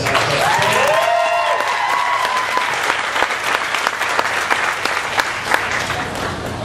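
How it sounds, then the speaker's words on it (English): Big round of applause for Bill Nye at a NASA Tweetup for the Juno launch, a loud, dense crowd clapping that holds steady throughout, with a whistling cheer rising near the start. "One more big round of applause for Bill Nye."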